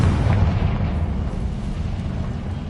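A Confringo fire spell blasts in Hogwarts Legacy, a heavy booming explosion with a dense low rumble that rolls on steadily and loudly for a few seconds.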